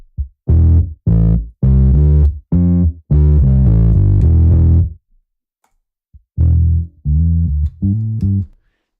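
Distorted, harmonically rich bass tones from an effects patch in Ableton play as a run of separate sustained notes and short stabs, loud and close, with a gap of silence midway.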